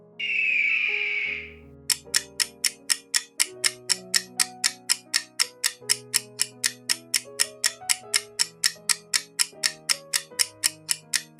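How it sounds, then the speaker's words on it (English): An eagle gives a single drawn-out, high screeching call lasting under two seconds, followed by steady ticking, clock-like music with low sustained notes. "This is eagle."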